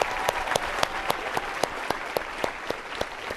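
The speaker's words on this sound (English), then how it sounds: "Big round of applause to everybody" An audience at a Millionaire Mind Intensive seminar applauds everyone present, a steady wash of crowd clapping with a few sharp, distinct claps standing out at a quick, regular beat.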